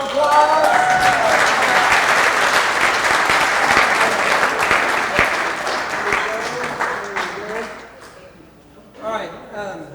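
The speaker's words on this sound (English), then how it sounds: "Give her a big round of applause." An audience at a Rotary Club installation banquet breaks into loud applause that fades after several seconds, with talking and laughter rising over the tail end.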